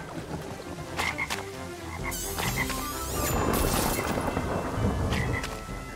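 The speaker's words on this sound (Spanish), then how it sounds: "qué pasa cuando nos mata una de estas ranas?" A frog in the Crash Bandicoot N. Sane Trilogy video game croaks several times as it kills the player, the croaks sounding over a busy game backdrop of rumbling, rain-like noise and music.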